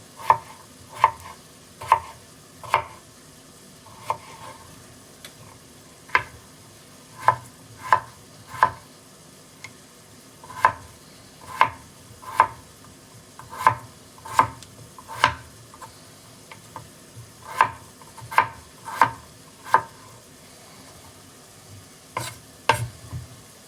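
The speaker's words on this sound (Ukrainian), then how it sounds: "Наріжемо теж дрібненько." Leek chopped finely with a knife on a cutting board, a series of sharp, close, irregularly spaced knocks with quiet pauses between small bursts, with no talking.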